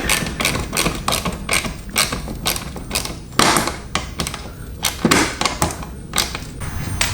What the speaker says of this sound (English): I'm gonna get underneath here and put all of these screws back in.